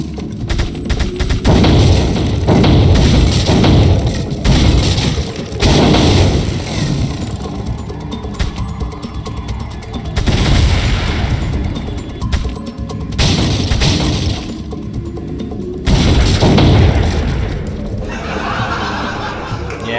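Repeated gunshots at the shooting range in Resident Evil 4, sharp loud bursts in irregular clusters over game music and effects, with a few sharper crash-like impacts.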